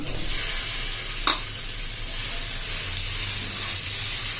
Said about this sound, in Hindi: कीमे को हमने अच्छी तरह भून के इसका कलर चेंज कर लेना है।